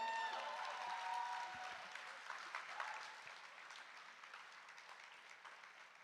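An audience applauds at a music festival night, steady clapping with some cheering that fades gradually over several seconds.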